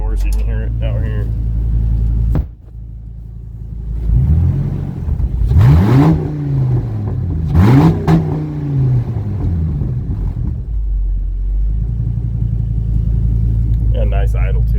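A 1965 Ford C850 truck engine runs at a low rumble, then revs up twice in rising and falling sweeps before settling back to a steady idle, heard close by with a door opening partway through.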